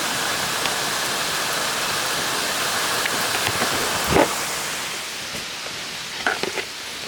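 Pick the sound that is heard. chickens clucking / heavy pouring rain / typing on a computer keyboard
heavy pouring rain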